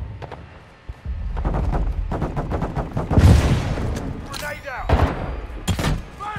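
Gunfire in the Modern Warfare 2 campaign, with rapid bursts of automatic fire, several heavy thuds and sharp single shots spread through the stretch, loud and close, mixed with game voices and chatter.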